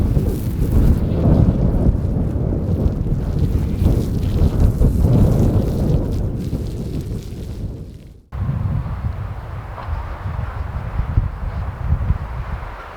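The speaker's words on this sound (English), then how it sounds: "It's windy now, it's windy." Strong winter wind at a homestead, after a cold front, roars and buffets the microphone continuously, with a brief dip before gusting back in, loud and broadband with no voices.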